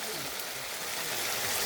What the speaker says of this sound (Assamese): মই অলপ পানী এড কৰিলোঁ